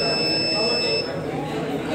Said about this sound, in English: It stopped automatically. The alarm.